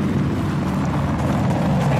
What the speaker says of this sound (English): He jumped in my chopper.